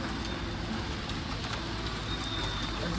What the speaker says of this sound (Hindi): ओले गिर रहे हैं।